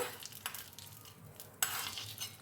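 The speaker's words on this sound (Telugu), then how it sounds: "చూడండి, పోపు పెట్టుకుందాము" Tempering (popu) poured into coconut chutney, a soft sizzle with stirring scrapes and a sharper burst of hissing partway through, quiet and close with no talk.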